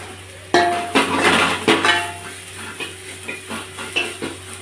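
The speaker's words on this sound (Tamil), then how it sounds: "ரெண்டு தக்காளியை நசுக்கி போட்டுக்கணும்" Tomatoes are crushed into a cooking pot with other ingredients while making prawn curry, with a sudden clank, then scraping and stirring over a soft sizzling background, close and loud.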